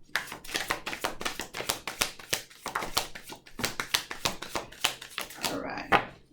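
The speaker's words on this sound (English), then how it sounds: "One more shuffle." Tarot cards are shuffled by hand at close range, giving a run of crisp riffling snaps and taps in quick uneven bursts, ending with a soft rustle and one sharper tap.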